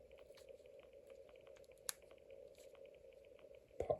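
A pepper seedling pulled from a soil-filled cup during transplanting: faint soft rustles, then one close, sharp pop-like burst at the end.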